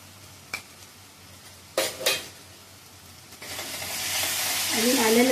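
Ginger-garlic paste for arbi bhaji hitting a hot pan, with a few clinks early on, then a steady sizzle that swells and grows louder over the last couple of seconds; no talking.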